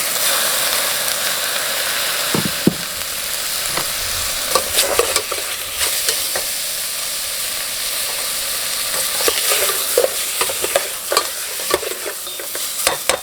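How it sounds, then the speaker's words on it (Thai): Pork belly stir-fried in a pan, a steady loud sizzle with repeated scraping and clinking strokes of a utensil that come irregularly throughout, with no talk. "แล้วใส่หมูครับ ผัดไปเลยสองชั้น"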